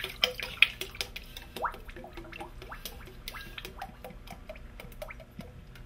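Raku glaze poured from a bucket into a bottle: soft wet splashes, drips and trickles in an irregular patter, close and fairly quiet, with a few sharper splats early on.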